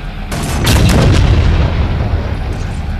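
A weapon fires in the video game Halo 4, a single heavy booming shot that swells and rolls out over a few seconds, loud and alone.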